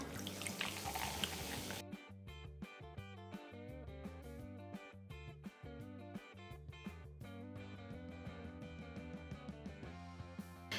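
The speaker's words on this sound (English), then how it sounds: "So now we're going to measure out 7-Up here" 7-Up soda poured into a measuring cup for a no-knead bread batter gives a brief fizzy, hissing pour for about two seconds before rhythmic background music takes over.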